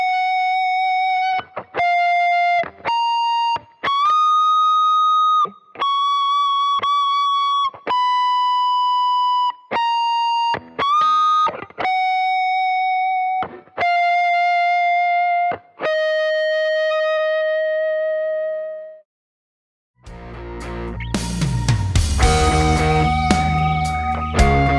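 Electric guitar playing the second theme, a clean sustained melody of separate held notes and slides, ending in a brief pause and a burst of denser, distorted strummed sound.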